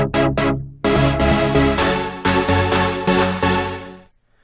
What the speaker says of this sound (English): So the sound coming out of Serum sounds like this.